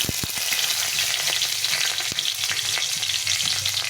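Nigella seeds and chillies fry in hot oil for a fish curry, giving a close, continuous sizzle with a few sharp spatters and pops and no talking.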